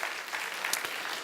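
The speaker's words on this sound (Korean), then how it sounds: "우리 아이들을 위해서 박수 한번 합시다." A church congregation at a Sunday service claps briefly for the children, a short burst of soft, somewhat distant applause.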